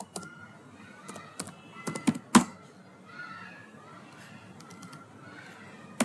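Keys clatter on a computer keyboard while C code is typed, a quiet run of uneven clicks with a few sharper keystrokes near the middle, set against a low room hum.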